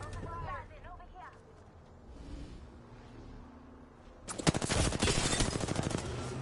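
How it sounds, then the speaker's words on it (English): Gunfire in the battle royale game Apex Legends: after a stretch of quieter game ambience and a voice, a dense burst of rapid automatic shots erupts and keeps rattling loudly to the end. "Listen up, I'm getting shot at. Taking fire."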